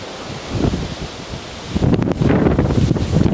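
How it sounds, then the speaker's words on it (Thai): Strong wind gusts buffet the microphone at a small hilltop viewpoint in southern Thailand, a rough rumbling roar that swells and grows louder and more turbulent partway through. "นี่ก็คือโอ้ลมแรงมากวันนี้"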